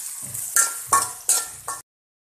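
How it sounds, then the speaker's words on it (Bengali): Chopped onions going into a hot pan for an ilish fish curry, four quick scraping stirs with a rising sizzle and clinks of the utensil, close by, then sudden silence. "এখন দিয়ে দিচ্ছি পেঁয়াজ কুচিগুলো। একটু ভালোভাবে নেড়ে নিতে হবে।"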